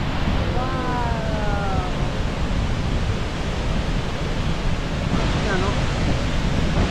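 Niagara Falls roars as a dense, constant wash of water noise, loud and unbroken throughout, while a person exclaims briefly over it.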